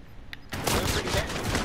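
Dense burst of automatic gunfire from Call of Duty: Warzone, loud and continuous rapid shots that erupt suddenly after a brief quiet moment.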